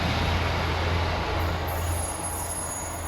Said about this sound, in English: just let this train go past.